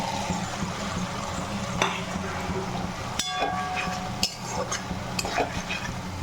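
Morola fish going into a simmering pot of bethe greens and potato curry, with steady stirring, a low bubbling sizzle and a few sharp clinks of a spoon against the pot.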